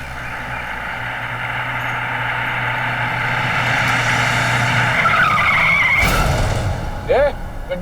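A car brakes to a sudden stop, tyres squealing over a loud engine drone that ends in an abrupt skid and a thump, followed by a voice.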